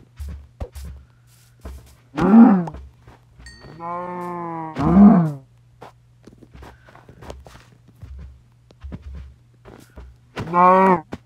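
A cow in a block-building video game gives three loud, drawn-out moos spread apart, with quick, soft footsteps tapping steadily in between.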